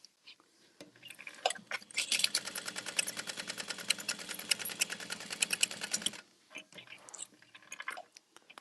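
Sewing machine stitching a seam, a fast, steady rapid clatter running for about four seconds, close and fairly quiet, with soft handling noises and brief quiet stitches before and after.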